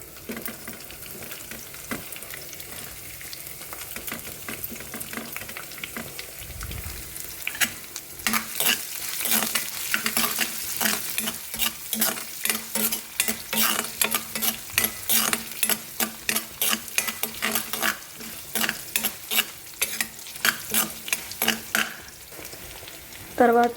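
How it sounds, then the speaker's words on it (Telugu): Onions frying in a pan for a carrot fry, a steady sizzle with frequent scraping stirs that grow busier and louder partway through, close by and with no talking. "ఫ్రై అయిన తర్వాత ఉల్లిపాయలు వేసుకోవాలి."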